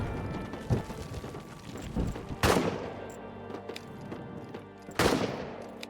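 Gunshots in the trench-warfare game All Quiet in the Trenches: a few sharp, loud cracks spaced seconds apart, each ringing out over a quieter ambient background.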